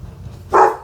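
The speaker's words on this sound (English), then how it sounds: "Oh, my dogs are now noticing." A single short, loud dog bark cuts in near the end, following a quiet household kitchen background with no talking.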